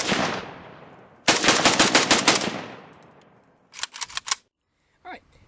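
An early Romanian AKM rifle fires outdoors: one loud shot rings out, then a rapid string of shots echoes away, then a shorter burst of four or five shots, followed by a faint click.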